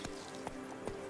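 Roach, the horse in The Witcher 3: Blood and Wine, clip-clops at a gallop, a few hoof thuds standing out over a steady background wash.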